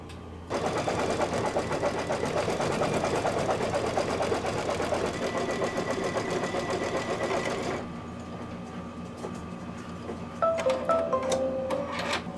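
An embroidery machine stitches an accent design on a birth announcement wall hanging, its needle running in a fast steady rattle for most of the stretch before the motor note shifts lower and sparse clicks appear near the end.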